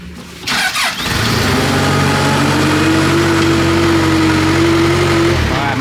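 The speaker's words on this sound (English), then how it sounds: "About to crank it up." A car engine starts in a workshop after repairs: a brief cranking burst, then the engine catches and settles into a loud, steady idle that runs on continuously, close by.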